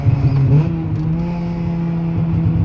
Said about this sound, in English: this is a 3rd gear pull